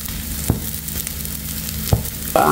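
A vegetable omelette fries in a pan with a continuous close sizzle, broken by a couple of sharp knocks of a spatula and a brief clatter near the end.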